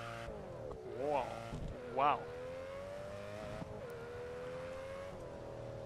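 Aston Martin DBS Superleggera engine in the racing game TDU Solar Crown, a steady droning hum with two short rising revs near the start, heard under a speaking voice.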